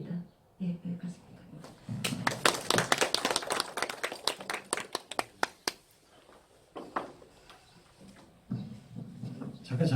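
Audience applause fills a public briefing in Gwanpyeong-dong, Daejeon, held against expanding a combined heat and power plant: a dense burst of clapping rises and fades over a few seconds, with voices talking before and after.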